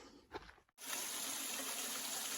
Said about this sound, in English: We followed this little creek down for a ways, but this is a pretty little waterfall.